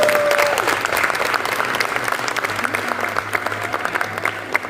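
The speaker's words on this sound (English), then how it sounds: "Please give a round of applause." Steady, dense applause from an audience at the Durban Screen Summit, a screen-industry conference, filling the whole stretch at a strong, even level with no break in the clapping.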